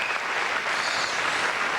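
Spectators at the 2002 Pilot Pen tennis semifinal between Venus Williams and Daniela Hantuchova applaud a Hantuchova passing shot with loud, steady clapping that holds evenly throughout, with no talking.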